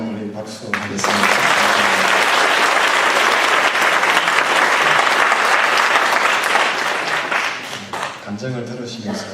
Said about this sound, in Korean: 다시 한번 우리 박수 하겠습니다.